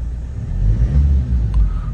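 A Toyota Fortuner diesel engine fitted with a BMC air filter revs up, its low rumbling note swelling midway and easing back over about two seconds, heard close and alone.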